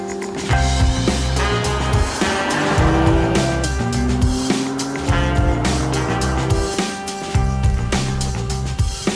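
A BMW M3 Touring estate being driven, its engine droning and rising in pitch as it revs through the gears, loud and close, with a brief tire-like squeal among the mechanical roar.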